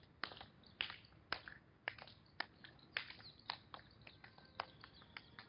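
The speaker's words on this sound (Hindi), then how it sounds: "इसके बाद दोनों हाथों से आगे और पीछे की तरफ ताली बजाएंगे।" Sharp hand claps from a yoga exercise, clapping alternately in front and behind the body, a steady two-beat rhythm of about a dozen crisp, close claps at a quiet overall level.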